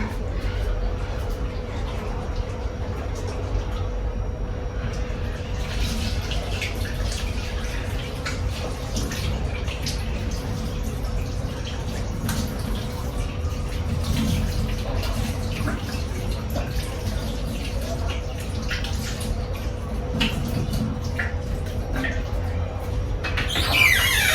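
Running water flows steadily from a tap while hands are washed, a continuous splashing hiss with small drips and handling sounds, and a person speaks at times.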